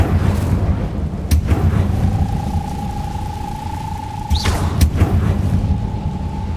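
The Incendio fire spell is cast in Hogwarts Legacy, producing a deep rumbling boom with sharp whooshing bursts and a sustained tone, loud over a constant low game-soundtrack drone.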